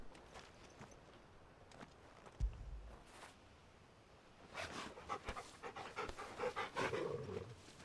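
A dog companion in the video game Final Fantasy XVI panting, faint at first and then louder and closer, with quick rhythmic breaths and soft footstep-like thuds alongside.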